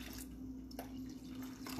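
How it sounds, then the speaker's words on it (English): Warm water is poured into a cooking pot alongside coconut milk, a soft trickling and dripping that sits faint and fairly close, briefly heard alone. "Using some warm water here"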